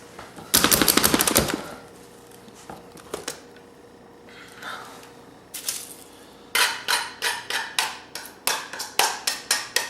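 Onions being chopped in a food dicer for meatloaf: bursts of rapid hard clattering chops, then scattered knocks, then a steady series of sharp repeated chopping strikes, close and loud, no talk.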